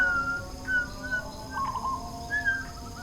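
Short, clear whistled notes for luring a zebra dove (perkutut) sound at scattered intervals, some brief and some slightly trilled, moderately faint over a quiet outdoor background with a low steady hum.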